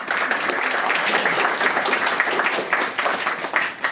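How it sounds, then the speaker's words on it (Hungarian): Steady, dense applause from a crowd at a kindergarten graduation ceremony, continuous clapping filling the whole stretch at a fairly even level. "És egy nagy tapsot is szeretnénk."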